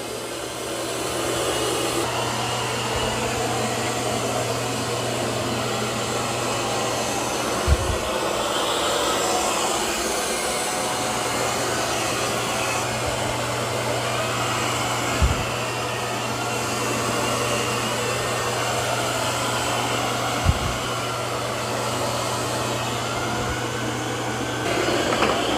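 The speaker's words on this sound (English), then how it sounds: "Now it's going to lift those mop pads automatically and start vacuuming carpet." A Eufy X10 Pro Omni robot vacuum vacuums carpet after lifting its mop pads, a loud, steady motor whine and airflow roar running throughout, with a few soft thumps as it bumps along.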